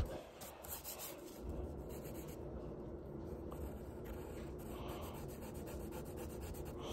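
Eraser rubbing against paper on a drawing, soft rapid back-and-forth scrubbing strokes, close and quiet, continuous for several seconds with no speech.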